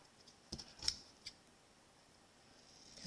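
Paper trimmed with scissors while making a Stampin' Up! card: a few quick, crisp snips near the start, then quiet with faint room noise.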